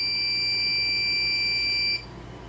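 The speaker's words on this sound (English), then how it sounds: "I think it's the output voltage alarm." A loud, steady electronic output voltage alarm from a generator running on a homemade 60-volt battery sounds continuously, then cuts off abruptly near the end, leaving a quieter background hum.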